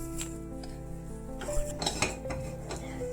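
Crispy fried garlic is scooped from a pan onto a separate plate in a home kitchen, with a quiet run of metal spoon scrapes and clinks against dishes and steel cookware.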